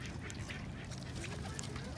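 Ducks and other waterfowl being fed at Lake Balboa Park, with soft quacks and honks scattered over steady outdoor background noise, and a voice speaking quietly in places.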